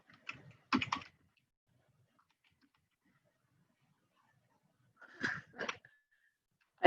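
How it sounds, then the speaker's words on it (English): Keystrokes on a computer keyboard come in two short bursts of quick clicks, close and fairly quiet, separated by several seconds of near silence. "I swear I'm typing correctly."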